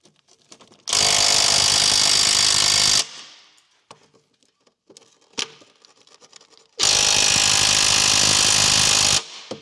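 Impact tool hammering at bolts on a 1999-2004 Jeep Grand Cherokee WJ transmission crossmember, two loud, close rattling bursts of about two seconds each, separated by quiet clanks and handling noises.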